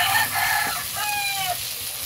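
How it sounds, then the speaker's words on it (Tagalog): A chicken calls out loudly in a few rising, drawn-out squawks, close by, over the steady sizzling hiss of tomatoes sautéing in a pan. "Ang ingay ng manok."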